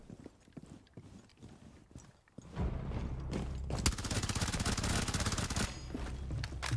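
Hip-fired gunfire in Rainbow Six Siege: after a couple of seconds of faint in-game clatter, a sustained rapid automatic burst erupts and keeps rattling loudly until the end.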